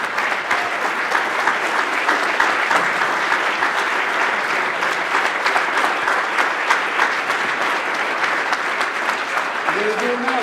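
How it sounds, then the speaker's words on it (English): Sustained, loud applause fills a hall as an inductee is welcomed at a football hall of fame induction ceremony, dense clapping from a full audience continuing steadily throughout. "Please give him a round of applause."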